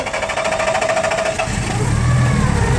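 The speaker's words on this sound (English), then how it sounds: "I'm gonna start my engine." A First Transit bus engine cranks and catches, a rough mechanical rattle giving way after about two seconds to a steady low diesel rumble as it settles into idle, close and loud.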